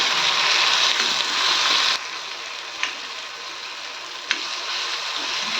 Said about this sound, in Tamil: தக்காளி ரெண்டு நிமிஷம் நல்லா வதங்கிட்டோம்